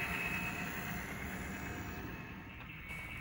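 HO scale model Santa Fe road switcher train running, a steady, quiet mechanical rumble and hum that continues unbroken and slowly fades slightly.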